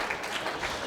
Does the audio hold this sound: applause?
yes